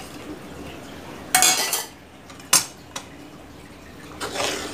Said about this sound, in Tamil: நல்லா மிக்ஸ் பண்ணிக்கிடலாம்.